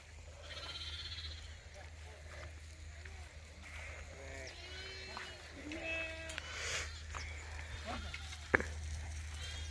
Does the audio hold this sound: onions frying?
no